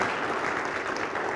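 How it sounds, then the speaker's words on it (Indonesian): Church congregation applauding together in a dense, steady wash of clapping that stays even and fairly loud throughout, with no one speaking over it. "boleh beri tepuk tangan saudara"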